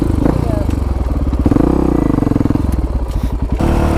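A 1985 Honda XR350R dirt bike in the Anza Borrego desert chugs loudly and unevenly up close, its engine pulsing in rough firing beats that swell and falter, with people talking alongside.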